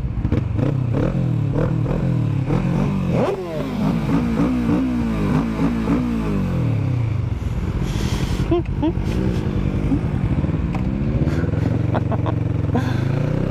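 A Kawasaki Vulcan S or BMW S1000R motorcycle engine revs repeatedly up and down, loud and close, with rising and falling pitch sweeps, clattering mechanical noise and a brief throttle drop, while a rider talks over it.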